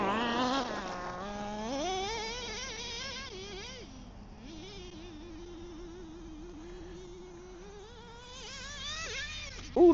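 A small nitro RC car engine buzzes and whines, with its pitch rising and falling through revs and idle, close by and steady for the full stretch, then a sharp bump at the end.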